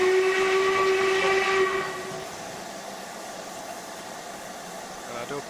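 Steam locomotive ejector in Train Simulator 2019 on the West Highland line east of Crianlarich, a loud whistling steam hiss with a steady tone that cuts off after about two seconds, leaving a quieter background hiss.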